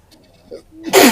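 One sharp, loud sneeze bursts out close to the microphone right after a short intake of breath.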